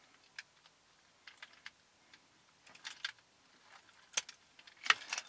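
Car keys prying plastic interior trim clips loose inside a car, a series of sharp, scattered clicks and snaps that start quiet and sparse and grow louder and more frequent toward the end.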